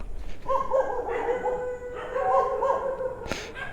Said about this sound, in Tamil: நாய்கள் ஜாக்கிரதை.